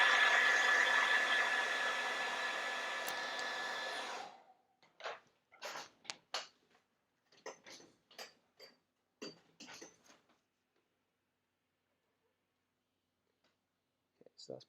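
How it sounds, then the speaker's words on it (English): A hairdryer blows on wet paint on a miniature, making a steady airy whoosh for about four seconds that then cuts off abruptly, followed by scattered small clicks and handling knocks. "So I'm just going to hit this with a hairdryer off camera."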